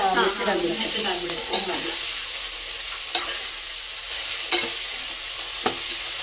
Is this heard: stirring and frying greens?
yes